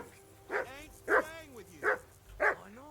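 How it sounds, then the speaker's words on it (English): A dog in the medieval video game Kingdom Come Deliverance 2 barks four times in a steady, evenly spaced rhythm, fairly close, over a quiet background. "Hey, call off that dog and then we can talk."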